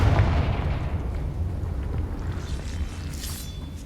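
A Confringo spell detonates in Hogwarts Legacy with a heavy booming blast that fades into a rumbling tail and scattered debris crackle.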